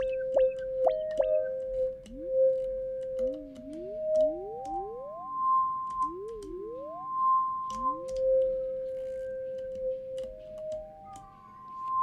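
Electronic tones from an OP-XY synthesizer: steady beeps and sliding, zigzagging pitch sweeps that rise and fall, played at moderate volume over a low background hum.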